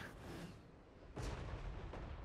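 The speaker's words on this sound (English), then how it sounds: "Some accurate cannon fire." Cannon fire in the strategy game Total War: Warhammer 3, a heavy booming volley that swells around midway and rumbles on with dense low-end impacts, loud and close with no speech.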